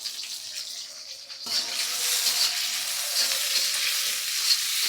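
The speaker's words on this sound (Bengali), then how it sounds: "ফুলকপিগুলো একটু ভেজে নিব হালকা মানে সামান্য লবণ ইউজ করতেছি" Washed cauliflower florets with a little salt dropped into a hot wok, a quiet lead-in giving way to a sudden, steady close sizzle that carries on evenly with light stirring, no talk.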